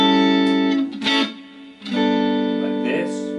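A few chords of electric guitar through a Vox Mini GO 10 amp's AC30 model, normal channel, with a chimey, lightly driven tone, strummed and left to ring, loud and close.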